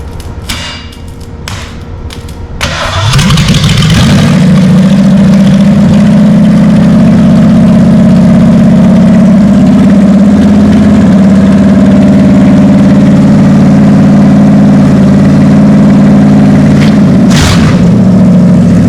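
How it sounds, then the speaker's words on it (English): A 1962 Lincoln 430 MEL V8 engine cranks for a couple of seconds, catches and fires up, then settles into a loud, steady, rumbling idle that holds to the end. "I'm gonna see if this thing will idle"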